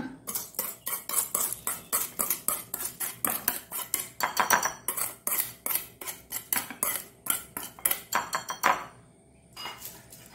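A spoon clatters against a metal pan as prepared tempering is added to a vermicelli idli mixture, a run of quick, bright scraping and clinking strokes up close before the noise stops abruptly near the end.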